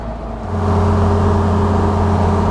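A fully restored 1935 Horch 830 BK runs with a smooth, steady low engine hum, swelling slightly after half a second and then holding an even, continuous drone up close.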